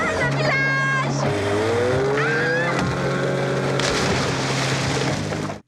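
A motorboat engine in a film scene revs and accelerates at full roar, its pitch sliding upward then dropping in steps, loud and close, with other tones and noise layered over the engine until it cuts off abruptly.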